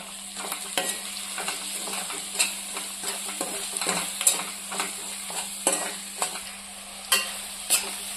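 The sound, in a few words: stirring chilli powder and spices frying in oil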